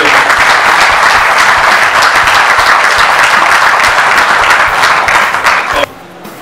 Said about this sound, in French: vous pouvez tous vous applaudir quand même